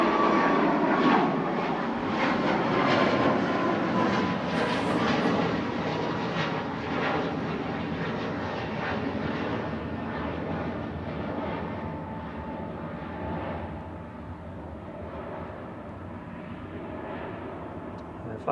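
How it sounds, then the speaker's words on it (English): Ryanair Boeing 737 MAX 8-200 jet bound for Palma, a loud roaring engine rush that is strongest at the start and slowly fades as the aircraft moves away, with faint talk beneath. "This must be the Ryanair to Palma EIHAW."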